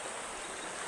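A river flows past in a short, steady wash of running water, soft and constant, with no voices.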